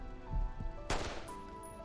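A single sharp gunshot cracks out in a dramatic scene, a gun put to a temple, its bright burst standing out against a steady ambient tone and low music.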